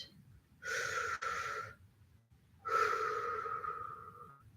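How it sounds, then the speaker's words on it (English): Two slow, deep breaths, each a long airy rush lasting over a second, with a short pause between, close and fairly quiet during a guided meditation. "Close your eyes and breathe"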